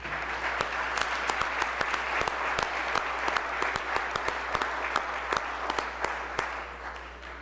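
Legislators on a state House floor applaud high school state champions, a sustained, even burst of clapping with sharp individual claps standing out across the room for the whole stretch.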